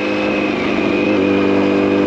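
A motorcycle engine running steadily and loudly up close, a constant droning hum with no talking.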